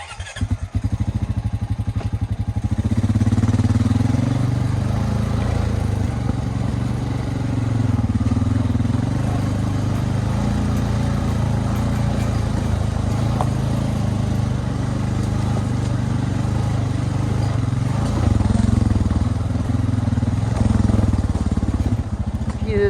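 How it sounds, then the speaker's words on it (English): Tractor engine labouring steadily while driving up a hill on a cow trail during brush cutting, a loud continuous low drone with slight rises in load, close by throughout. "I'm kind of surprised that tractor didn't get stuck or stall out."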